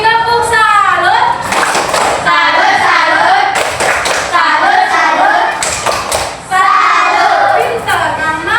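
A class claps a rhythmic salute in bursts of hand claps, with children's voices shouting along and an adult talking in between.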